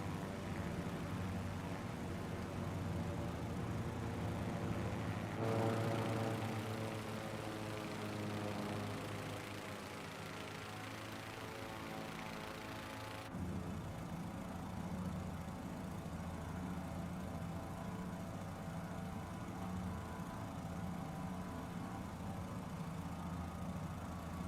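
Aircraft engines running on a Fokker airliner in Microsoft Flight Simulator 2024, a steady droning engine hum with a layered tonal whine that shifts pitch partway through and continues evenly throughout, with no talking.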